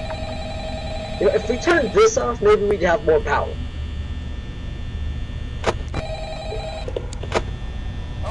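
Telephone ringing in the horror video game Five Nights at Freddy's, a repeated electronic ring in short bursts heard under someone talking, then a couple of fainter rings later against a steady game drone.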